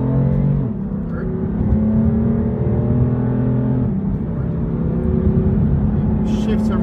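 A 2015 BMW M4 pulls hard in manual mode, its engine note climbing and then dropping as it shifts up through the gears, loud and close from inside the car.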